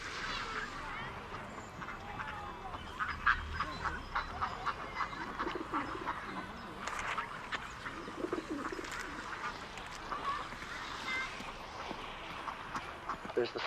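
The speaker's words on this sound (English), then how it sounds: "with the ducks and the other pond birds, with all the quacking and the splashing that goes on all the time as they land and take off and fight and" Ducks and other pond birds in a VR game scene, with scattered quacks, coos and calls over a busy outdoor bed and bursts of splashing, fairly faint, while a voice talks over them.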